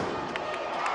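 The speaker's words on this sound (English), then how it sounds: "See the crowd saying we're only up by 4" A basketball arena crowd chants and cheers in a steady, dense roar that lasts the full second, with no break.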